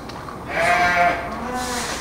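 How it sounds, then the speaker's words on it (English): Sheep bleating in a livestock pen at the Pima County Fair where freshly shorn sheep and lambs are kept, one long wavering bleat rising loud and close, then a softer second call, with no talk. "This is sheep, folks."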